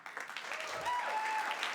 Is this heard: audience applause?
yes